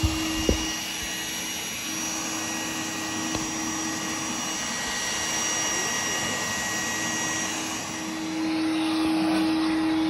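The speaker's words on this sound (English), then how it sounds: "Somebody's hoovering out the crap out of that" A Henry vacuum cleaner drones steadily and loudly throughout, a constant whining hum that swells slightly near the end.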